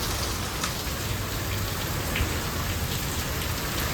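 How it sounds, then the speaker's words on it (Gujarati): Steady, dense rain drums on a metal sheet roof, with gusty wind in the mix; the close, even hiss holds without a break and no one speaks. "વરસાદ છે ને આજે પણ છે"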